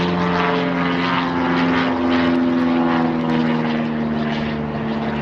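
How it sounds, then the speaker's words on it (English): A propeller plane drones low overhead near Sarasota airport, a loud steady engine hum that fills the whole stretch without pause. "Please excuse the plane overhead."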